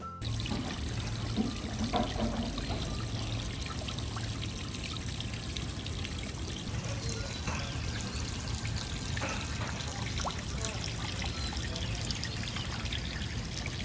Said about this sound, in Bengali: যেখান থেকে দেখেন একটা পানি পড়তেছে এত সুন্দর আওয়াজটা